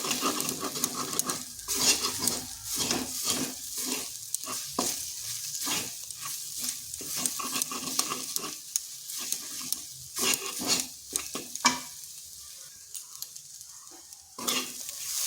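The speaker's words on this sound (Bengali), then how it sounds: "ডিমটা আলুর সাথে মিশিয়ে নেব।" Egg being stirred into potatoes in a frying pan, with a spatula scraping and clattering in quick repeated strokes over a steady sizzle, close and fairly loud throughout.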